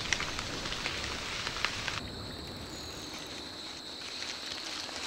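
Steady rain falls in a forest home to great apes, a dense even hiss with soft patters that turns smoother halfway through as a faint high tone enters, no voices.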